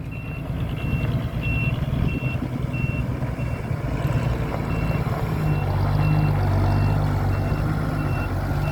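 A truck hauling laterite gravel on a hilly site backs up, its reversing alarm beeping in a steady, regular rhythm over the loud, rumbling diesel engine.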